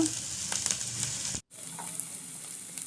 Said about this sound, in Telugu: రెండు పచ్చిమిర్చి ఒక ఉల్లిపాయని చిన్నగా కట్ చేసుకొని వేసుకోవాలి అన్నీ ఫ్రై అయ్యాక